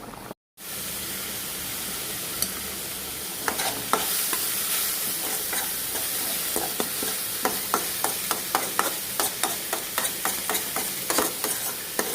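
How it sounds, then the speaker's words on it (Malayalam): Bitter gourd fries loudly in a pan over a high flame, a dense continuous sizzle with frequent crisp scraping clicks from stirring that quicken toward the end, and no voices. "പാവയ്ക്ക നന്നായിട്ടൊന്ന് വാടി വരുന്നുണ്ട് ഇപ്പോൾ ഒന്ന് ഫ്ലെയിം കൂട്ടി വെച്ച് കൊടുത്തിട്ട് വേണം കേട്ടോ വാട്ടിയെടുക്കാൻ"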